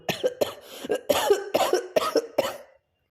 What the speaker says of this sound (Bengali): কথা বলতে বলতে লোকটা আবার ভয়ানক কাশতে লাগলো